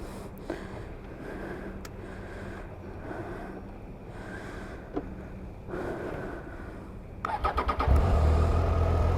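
A motorcycle engine cranks and catches at night before a ride, quiet ambient noise for most of the span, then a short burst of starter pulses near the end settles into a loud, close, steady low engine rumble.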